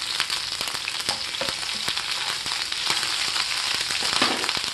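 Finely chopped garlic and ginger frying in hot oil in a pan for soya Manchurian, a dense continuous crackling sizzle with scattered sharp pops, close and loud, with no voices.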